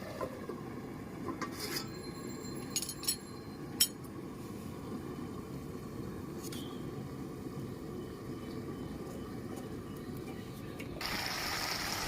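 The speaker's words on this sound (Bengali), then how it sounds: "ঢাকাটা আবার দিয়ে দিচ্ছি আমি" A lid goes back onto a pot of young bottle gourd and prawn curry, making a few light metallic clinks and scrapes early on over a steady, soft simmering hiss that runs throughout.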